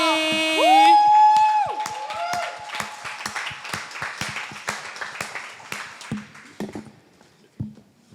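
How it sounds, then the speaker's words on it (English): Audience at an open mic night in a coffeehouse clapping and cheering for a performer, starting with a rising whoop and then steady scattered applause that thins out and fades near the end. "can we please give a round of applause to Call Me Your Homie?"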